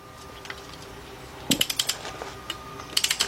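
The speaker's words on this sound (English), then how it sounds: "Now I'm torquing them down to 80 foot-pounds." A torque wrench ratchets in quick bursts of sharp metallic clicks as bolts on a 1977 Buick LeSabre 350 engine are tightened to 80 foot-pounds, the clicks clustered in short runs with quiet gaps, close and fairly crisp.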